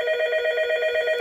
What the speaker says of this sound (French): c'est juste un téléphone analogique dégueulasse qui sert juste à faire des tests. Et il a cette sonnerie là horrible que vous avez entendue.